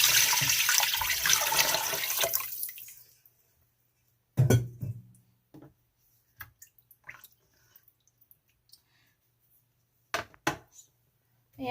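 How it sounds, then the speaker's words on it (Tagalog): Eight cups of water poured into a cooking pot for pancit lomi, a loud splashing stream for about three seconds, then quiet with scattered clinks and knocks of kitchen utensils. "So this is the 8 cups of water."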